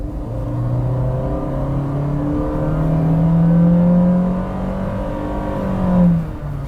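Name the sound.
Honda City 1.5 engine noise in cabin under hard acceleration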